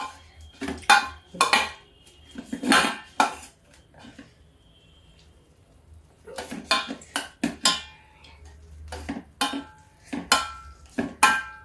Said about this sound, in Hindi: थोड़ा मूंगफली है उबली हुई, इसलिए हमको मैश करना पड़ रहा है।